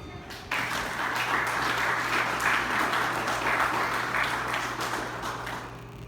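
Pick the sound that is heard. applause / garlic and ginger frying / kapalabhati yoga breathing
applause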